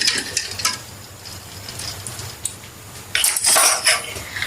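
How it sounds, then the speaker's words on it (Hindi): Shawarma chicken with oil and salt is mixed in a bowl, giving bursts of clinking and scraping utensil sounds against the dish, louder toward the end. "अब इसको अच्छी तरह से मिक्स करेंगे"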